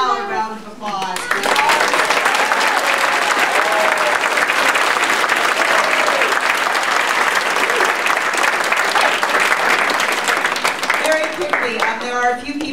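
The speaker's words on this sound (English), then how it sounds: "one more loud round of applause." A loud, sustained round of applause from the audience at a Lutheran church children's Christmas program, many hands clapping in a thick continuous roar, with a voice speaking briefly before it swells and again as it fades.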